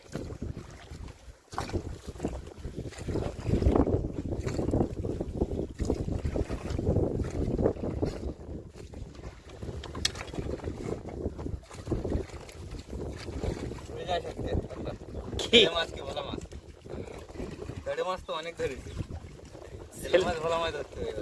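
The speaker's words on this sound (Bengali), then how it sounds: "ভালোই হাওয়া হচ্ছে নদীতে ঢেউ" Constant wind buffeting with river waves sloshing against a boat, close and steady, while people talk over it.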